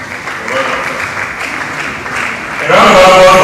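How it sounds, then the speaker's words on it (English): Audience applause at a national scientific conference, a dense crowd clapping steadily for about two and a half seconds before a voice begins speaking over the tail of it. "A round of applause for him, please."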